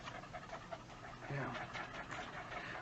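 A dog pants softly and steadily in the background, faint under a man's conversation.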